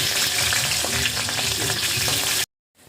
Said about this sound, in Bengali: শুকনো চিংড়ি মাছগুলোকে ফ্রাই, রসুন, পাঁচ ফোড়ন, তেজপাতা, কাঁচা লঙ্কা